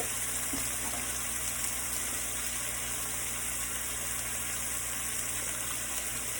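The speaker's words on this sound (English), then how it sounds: "let me let this run up on some hot water real quick" Hot water runs steadily from a kitchen tap as a continuous, even rushing hiss at a moderate level, with no voices over it.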